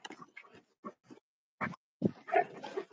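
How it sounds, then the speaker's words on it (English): A puppy makes small yips and whimpers in short separate bursts, close and fairly loud, ending in a busier cluster of yelping sounds. "and this is my puppy."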